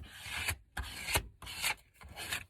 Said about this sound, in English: I'm going to take my scrape card and make sure that it's all